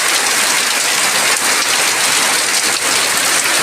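Heavy rain drums onto an outdoor fish pond, loud and unbroken, a dense hiss of countless drops hitting water and surfaces close by.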